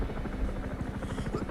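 Enemy helicopter in a video game, its rotor thumping in a rapid, even beat that stays steady and fairly close for a second and a half, with no voices.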